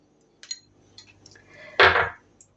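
Yoghurt being stirred with slit green chillies in a bowl for steamed pabda fish in pumpkin leaf: a few light utensil clinks, then one louder burst of scraping and clattering against the bowl, close and without talk.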